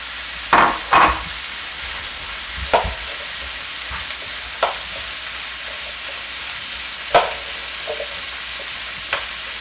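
Medium onion and bell peppers sizzling in a pan, a steady low frying hiss punctuated by a handful of loud clacks and scrapes from stirring, no talking.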